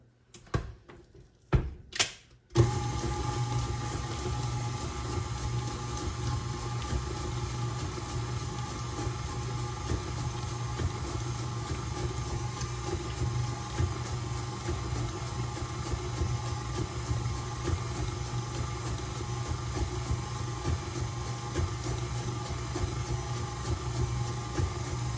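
An electric mixer beats cookie dough made with shortening and vanilla bean paste, a steady droning motor hum with a gritty churning texture that runs continuously after a few brief clicks and knocks at the start.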